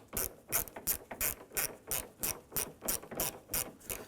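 Steady rhythmic clicking of a 10mm socket wrench ratchet on a Ford F-150 tailgate bolt, about two to three clicks per second, close and clear with no talking.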